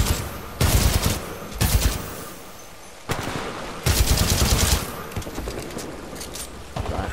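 Shotgun fire in the video game Titanfall 2: loud, heavy blasts in several distinct bursts, separated by brief quieter gaps filled with game noise, close and dominant with no talking.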